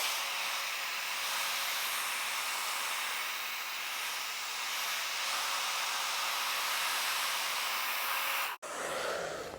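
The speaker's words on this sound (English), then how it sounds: "I do like to give the gum arabic a little bit of a hair dryer just to warm it up and dry it up" A hair dryer blows warm air over gum arabic on a polyester litho plate, a loud, steady rushing hiss held for several seconds before it cuts off abruptly near the end.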